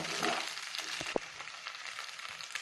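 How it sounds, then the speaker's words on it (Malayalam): Vegetable macaroni frying in a pan while being stirred: a steady close sizzle with a few scraping stirs and light clatter, no talking. "ഇത് നന്നായിട്ട് യോജിപ്പിച്ച് 1-2 മിനിറ്റ് നന്നായിട്ട് ഇളക്കണം"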